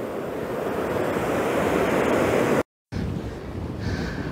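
Ocean surf washes steadily onto the shore near a small fisherman village on Russia's Pacific coast by Japan, a loud continuous roar with wind buffeting the microphone and one brief dropout.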